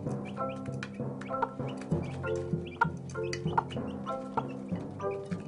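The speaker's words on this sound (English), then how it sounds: "She carries on calling and pecking, and at last the chicks obey their mother and go to feed from the yellow bowl." A mother hen clucks repeatedly to call her chicks to feed at a bowl, with rhythmic close clucks mixed with higher chick peeps throughout.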